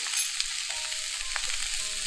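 Singapore rice noodles stir-fried in a GUSTO 26 cm nitrided wok, with a steady broadband sizzle and light scraping and tossing sounds close up, no voices.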